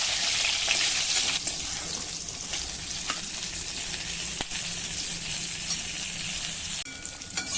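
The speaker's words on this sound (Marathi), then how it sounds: "आता आपल्याला ही वांगी छान फ्राय करून घ्यायची आहे" Eggplant pieces with salt fry in hot oil in a pan, a steady, close, loud sizzle with a brief stir or two, no talking.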